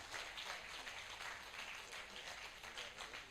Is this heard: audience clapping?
yes